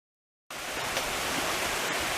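Small waterfall on Mill Prong Creek in Shenandoah National Park, a steady broadband rush of falling water that starts abruptly after brief silence and continues evenly, close and fairly loud.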